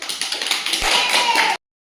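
Small children in a kindergarten classroom clap together in a quick, steady run of close hand claps lasting about a second and a half before cutting off abruptly.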